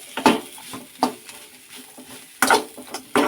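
A spoon stirs a special corn snack in a pan, giving several distinct scraping clatters spaced across a few seconds, with soft sizzling underneath and no talking.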